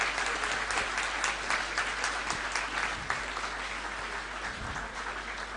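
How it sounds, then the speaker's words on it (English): A convocation audience claps steadily for parents and families, a dense, even wash of applause from a large crowd that continues without pause and fades slightly toward the end. "I want you to give a big round of applause to them"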